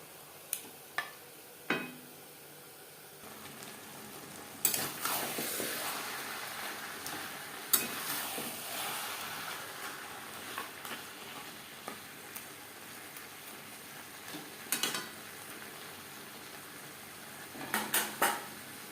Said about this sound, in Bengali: পেঁয়াজ টমেটোর সাথে মাছ বেশ ভালো করে মিক্স করে দেব প্রথম পাঁচ ছ মিনিট রান্নাটা করব হাই ফ্লেমে